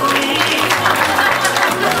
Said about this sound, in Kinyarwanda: dushimire Divine tumuha amashyi menshi cyane